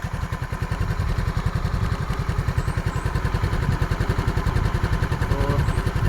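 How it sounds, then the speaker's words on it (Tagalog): A Motorstar Easyride 150 motorcycle, about two months old, idles close by with a steady, even low putter and a light mechanical clatter, running smoothly alone with no talk. "So paparinig ko yung andar ng makina guys."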